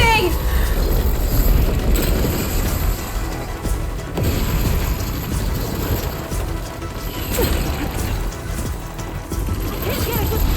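A ballista in Horizon Forbidden West being reloaded, with continuous mechanical ratcheting and gear clatter at close range under game voices and a broad noisy background.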